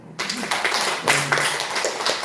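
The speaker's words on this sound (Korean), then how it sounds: "원장님 박수 한번 쳐주세요." A short round of applause at a parent education session at a daycare centre, many hands clapping together indoors, loud and dense for a couple of seconds.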